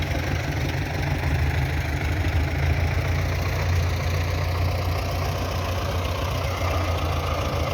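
A tractor stands idling near a deep roadside pit, its engine a continuous, even low rumble with steady vibration and no talk over it.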